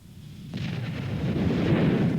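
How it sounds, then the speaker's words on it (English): Explosion at the ambassador's residence in Peru during a hostage siege, a sudden loud boom at about half a second followed by a sustained heavy rumble and roar that builds and stays loud to the end. "A flash of light from the ambassador's residence, an explosion which sent troops running for cover"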